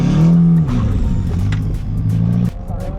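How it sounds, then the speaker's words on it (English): An Audi A4 drift car's engine revs hard with the clutch in and then drops in pitch as the clutch is dumped, a loud close droning rumble that settles into a lower hum, with a voice briefly audible. "push the clutch in, all the way in, rev the shit out of it, and dump, just lift your foot off"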